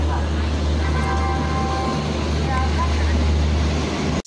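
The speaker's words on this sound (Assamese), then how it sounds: "এইখন ট্ৰেইন ফাইনেলি আহি পাই গ'ল এতিয়া" A train pulls into a station on the Varanasi to Ayodhya route, its steady engine rumble and rolling wheel noise filling the scene with faint tonal whines, while people talk nearby over the continuous din.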